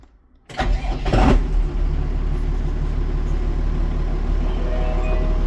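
A Scout TD-1304C tractor's diesel engine cranks briefly, then catches and settles into a steady, loud idle that holds without change.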